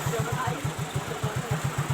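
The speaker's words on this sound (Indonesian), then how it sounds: "Motor ini langsung hidup" A Yamaha Mio J motorcycle engine idles with a steady, rapid low thumping pulse, close by and continuous throughout.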